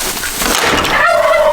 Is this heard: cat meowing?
no